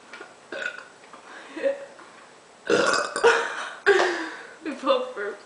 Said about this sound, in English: Your burp over countered mine.